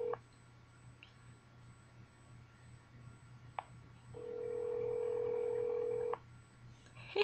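An outgoing phone call rings unanswered, a faint electronic ring tone sounding once as a long steady two-second tone amid quiet background hum and a few soft clicks.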